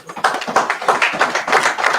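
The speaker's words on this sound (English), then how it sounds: "clap it up for me" Congregation clapping at a Sabbath service, a rhythmic run of fairly close, even hand claps in a steady beat throughout, with no talk over it.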